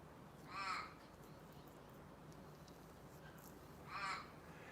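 Two crows caw in the distance outdoors, each call a short harsh burst, separated by a few seconds of quiet steady ambience.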